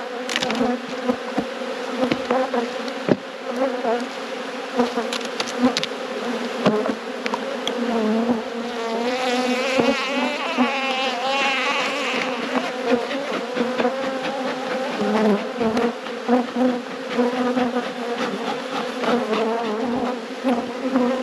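Honeybees robbing a beehive swarm in a dense, droning buzz around the open hive, a loud continuous hum of many wings with individual bees zipping past close by.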